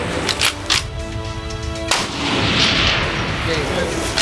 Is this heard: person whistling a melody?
no